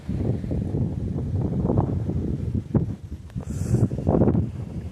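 Gusty wind blows outdoors at a rider race, buffeting the microphone with low, uneven rumbling that rises and falls over a few seconds. It is close and fairly loud, with no clear speech.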